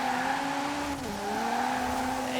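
A little Peugeot rally car on a new tune slides continuously, its engine holding a steady droning note with a brief dip mid-slide, tire noise hissing underneath; close and fairly loud, no voices.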